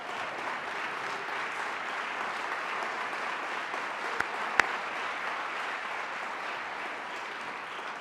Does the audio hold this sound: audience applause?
yes